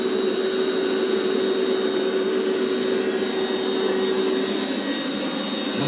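An electric pump inflates a CHILLSUN two-person air mattress with a steady, loud, even whine and rushing airflow that holds unchanged throughout, with no talking.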